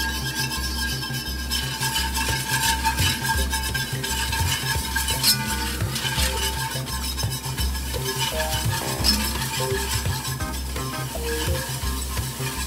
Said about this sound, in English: we're going to start to stir in our flour slowly and keep it stirring gradual